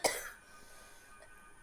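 A single short cough, close and fairly loud, opening on a sharp burst of breath that quickly fades into quiet room tone.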